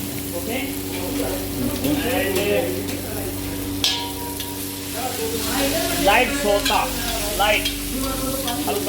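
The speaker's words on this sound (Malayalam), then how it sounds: "ഈ പറഞ്ഞ വെജിറ്റബിൾ എല്ലാം ഇട്ട് അതിൻ്റെ മുകളിൽ ചിക്കൻ്റെ പീസുകളും ഇട്ടിട്ട് നന്നായിട്ട് മിക്സ് ചെയ്യുക" Vegetables and chicken pieces stir-fried together for chicken fried rice, with a steady, close sizzle and intermittent scraping and clinking of a spatula against the pan throughout.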